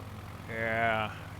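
A propeller airplane engine in Microsoft Flight Simulator 2020, flying the Idaho backcountry, drones as a low, steady hum through the whole moment while someone talks over it.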